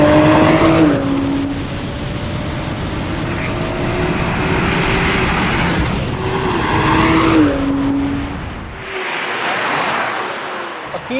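A Toyota Supra MK5 launches hard in a drag race, its engine revving loud and rising in pitch through gear changes, with a brief lift around the middle and a tire-noise rush near the end.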